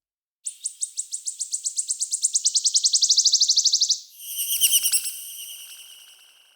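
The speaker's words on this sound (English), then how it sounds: "let's pretend we're outside and we are listening to the birds chirping" A rapid series of high, bright chirps repeats steadily for several seconds, then a second, harsher burst of trilling notes follows, clear and fairly close.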